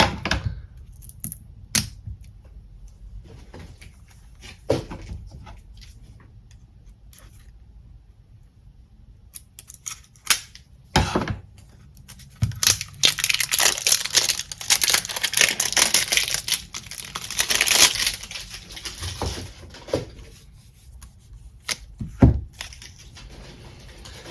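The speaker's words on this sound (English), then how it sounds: "let's open this deck. Oh, this one seems to be packed a little tighter." Crinkling plastic wrap and papery rustling as a tightly packed tarot card box is worked open, with scattered clicks and taps, no talking.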